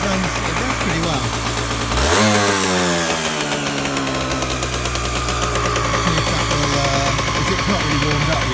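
A cold engine runs on choke with a loud, continuous, buzzy drone that dips in pitch briefly then holds steady, heard up close with no talk.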